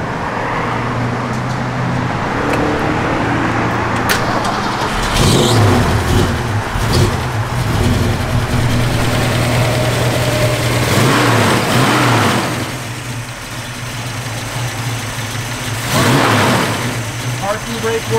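A 1966 Ford Mustang with a stock T-handle shifter and a mild cam revving, its mid-pitched engine rising and falling through several pulls, loud and close, with someone talking over it.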